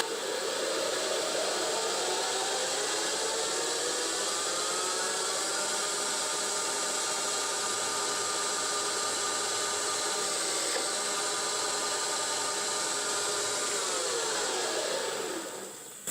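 A 9x20 CNC lathe driven by a treadmill motor runs steadily at 1400 RPM, a continuous whirring machine drone with a rising-then-falling whine that holds for about fifteen seconds before winding down, no talking.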